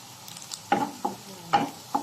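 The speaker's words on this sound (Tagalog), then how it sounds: "Itutos lang po natin yung garlic until mag-ano siya nang maging little bit na brown." Garlic sautéing in butter until light brown, with a quiet pan sizzle and a few distinct stirring scrapes and pops at irregular intervals, no voices.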